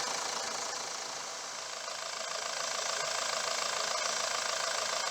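A 4.9 liter Mitsubishi Fuso turbo diesel engine in a 2001 FE145 flatbed truck idles steadily with a constant, close, loud clatter and hum that holds unchanged throughout, with no voices.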